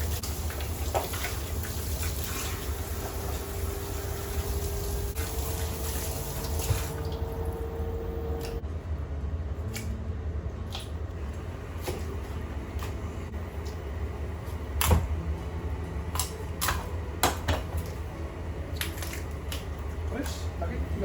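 Raw chicken pieces for sinigang na manok being washed, with trickling and splashing water, wet squishing and scattered clinks of handling, under occasional talk.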